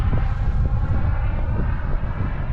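A Global Jet Club Hummingbird RC model jet with an ACEx-80 engine flies on an overcast day, its steady rushing engine roar loud and close with some wind buffeting.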